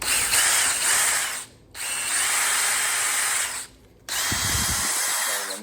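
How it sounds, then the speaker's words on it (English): A power drill spins a Scotch-Brite pad against engine valves during a Subaru WRX engine rebuild, giving a loud, steady whine in three long bursts separated by brief pauses, ending with a faint mechanical rattle. "A very easy way to clean these valves up is just to attach it to the end of a drill and a Scotch-Brite pad"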